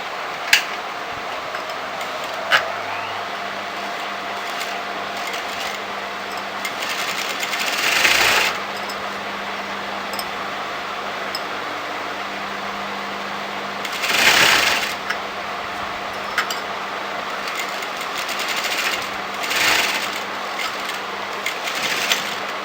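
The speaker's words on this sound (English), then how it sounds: "I'm going to sew" A sewing machine stitches a straight seam on a kurti shawl collar, ticking along steadily with a few louder bursts of fast running.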